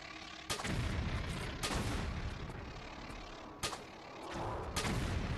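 Booming gunshots in Tomb Raider, a few sharp reports spaced a second or two apart over a dense, rumbling game soundscape, fairly loud and with no talking.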